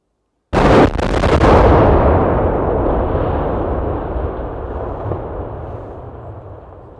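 Explosive demolition of the Smithland bridge: a sudden loud blast with sharp cracks at the start, then a long rumbling roar that slowly fades over several seconds, with no talking.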